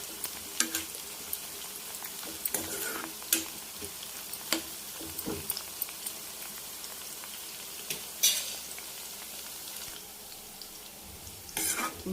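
Bitter gourd pieces deep fry in hot oil in a pan, giving a continuous bubbling sizzle. Spoon clinks and scrapes against the pan mark occasional stirring, and nobody speaks over it.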